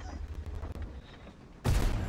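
Low rumbling ambience with faint ticks in World of Tanks, then a T-54 tank cannon fires a sudden heavy blast that booms loudly and keeps roaring to the end.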